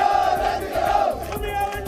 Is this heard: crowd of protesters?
yes